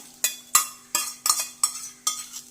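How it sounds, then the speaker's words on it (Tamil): A metal spoon clinks against a pan or bowl while tempering with onion and curry leaves is stirred into chayote pachadi. There are six or seven sharp, close clinks at a fairly even pace, with no talk. "தாளிச்சது எல்லாமே இந்த பச்சடியில் ஆட் பண்ணிடுறேன்"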